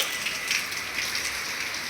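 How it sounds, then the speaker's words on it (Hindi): Rain falling steadily outdoors, a continuous even hiss of drops on surfaces with no distinct pauses, close and fairly loud throughout. "तो गाइस बारिश हो रही है"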